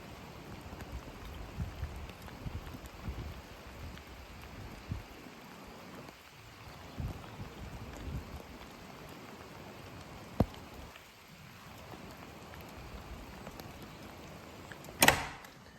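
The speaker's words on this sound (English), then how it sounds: "it's actually come at the right time because it's raining out there now." Rain falls outside a stone bothy in the Scottish Highlands in winter, a faint, steady patter with a couple of brief sharp knocks nearby.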